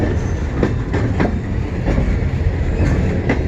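A CN freight train rolls past at close range, loud and steady, with rhythmic clickety-clack of wheels over rail joints repeating every half second or so.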